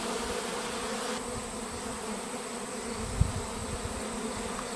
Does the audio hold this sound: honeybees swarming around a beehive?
yes